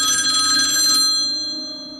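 A telephone rings loudly for an incoming call in an animated Cuphead scene, one sustained electronic bell-like trill that stops and leaves a fading ringing tone, with no voices.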